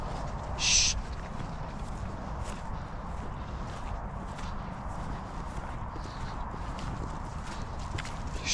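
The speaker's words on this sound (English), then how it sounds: "It's a horse." A horse walks across a countryside field where whippets are out near cows and horses, its hoof falls soft and fairly distant under steady outdoor wind noise, with one brief louder knock early on.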